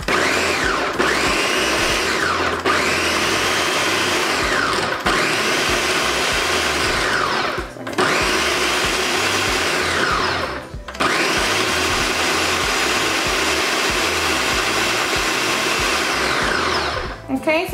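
A blender chops roasted green chiles for beef green chile, running loud and steady in several bursts with brief pauses between them, the motor pitch dipping as it loads and climbing again, with no talking.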